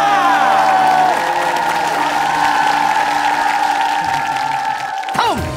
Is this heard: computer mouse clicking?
no